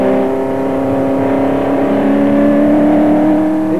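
A race car at Le Mans in 1968 pulls away down a short straight, its engine holding a loud, close, sustained drone with rising harmonic tones and no speech.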